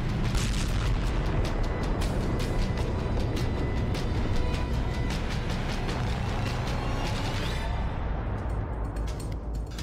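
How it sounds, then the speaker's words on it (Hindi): Continuous heavy rumbling booms of artillery fire during a Ukrainian attack on a Russian artillery unit, a dense, loud, sustained roar of explosions with no pauses, thinning slightly toward the end. "रूस की आर्टिलरी यूनिट पर यूक्रेन का हमला, रूस के जखीरे पर यूक्रेन का अटैक।"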